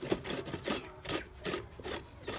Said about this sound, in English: I'm gonna grind it and grind it.